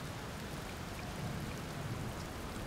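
Steady rain pours down in the Outer Wilds video game, a dense even hiss of drops on surfaces with no talk over it.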